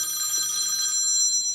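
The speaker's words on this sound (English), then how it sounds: "I have to answer this phone." A telephone rings in a workshop, a steady bright electronic trill lasting the whole short moment, fairly loud and close with no talking over it.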